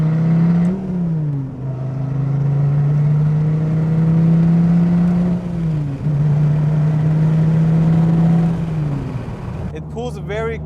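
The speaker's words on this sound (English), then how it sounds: "the sound out of the pipe is right next to you" Dodge Viper SRT exhaust accelerating hard in second gear, a loud, raw drone climbing steadily in pitch with brief dips at shifts, heard from inside the cabin close to the side pipe.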